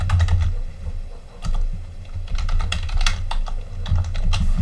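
Rapid clattering keystrokes on a computer keyboard, close and distinct, in uneven bursts with short pauses while entering a server name during a networking lab exercise.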